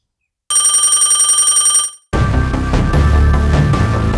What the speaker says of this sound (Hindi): तुम्हारा फोन बज रहा है। अरे फोन जल्दी उठा ले भाई।